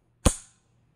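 One sharp metallic clack from the charging handle of an AR-15 rifle being pulled back, close and loud, then silence.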